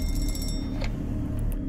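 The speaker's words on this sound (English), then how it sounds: "I hear the ringing." A bright electronic telephone ringing tone in the video game Decimate Drive pulses repeatedly for about a second over a steady low hum, then stops, leaving a faint background drone.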